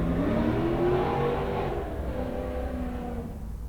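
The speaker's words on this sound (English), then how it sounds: "if you could hear that, that's my neighbor with their car" A neighbour's car revs outside, a loud, steady engine roar that holds for a few seconds, then eases slightly and drones on without a break.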